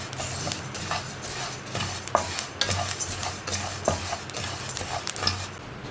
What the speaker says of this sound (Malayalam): ഇപ്പോൾ നമ്മുടെ അരിയൊക്കെ നമ്മൾ വറുത്തെടുത്ത് കഴിഞ്ഞിട്ടുണ്ട്